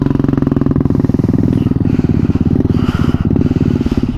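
A motorcycle engine runs close by on an off-road forest trail at night, throbbing loud and steady with a fast, regular pulse. Faint clatter sits in the background.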